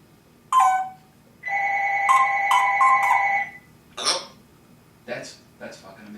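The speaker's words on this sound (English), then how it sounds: "Did you hear what he did when the phone rang?" A telephone rings indoors in a home with a parrot, giving a steady electronic trilling ring in two bursts, followed by short sharp calls and brief voices.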